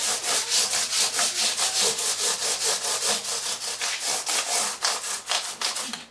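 Hand sanding on a 2009 Gibson Les Paul Jr guitar body with 400-grit sandpaper held between two fingers: close, steady back-and-forth rasping strokes in a quick, even rhythm, with no voices.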